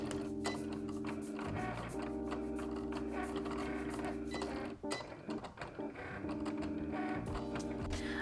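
A Cricut Explore Air 2 cutting machine works through foam vinyl at home, giving a steady mechanical whir with clicking, ratcheting carriage movements and a brief pause partway, close and with no one talking.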